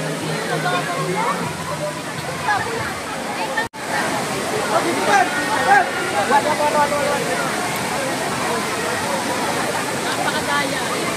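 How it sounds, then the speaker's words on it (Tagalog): Steady rushing roar of Taytay Falls waterfall in Majayjay, Laguna, continuous throughout, with a crowd of weekend visitors chattering underneath. "Ito pala ang tinatawag na Taytay Falls located at Mahayhay, Laguna."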